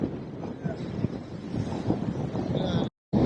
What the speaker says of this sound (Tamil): காற்று அதிகமாக இருக்குது